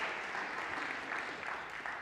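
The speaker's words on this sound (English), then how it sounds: "Give her a round of applause" A conference audience applauds briefly, a faint, even patter of many hands clapping that holds steady for about two seconds.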